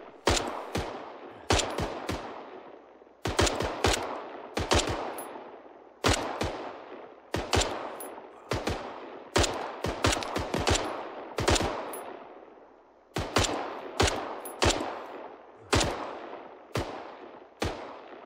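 Close, sharp gunshots ring out in ArmA 3, fired singly and in quick pairs and bursts with long echoing decays across a desert battlefield in Takistan, and no one speaks.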